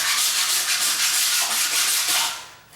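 A long-handled floor razor scraper grinds hard against the floor in one continuous, rasping scrape under heavy pressure, loud and close, easing off at the end.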